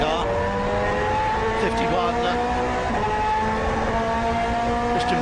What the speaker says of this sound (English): GT1 cars coming through this GT2 field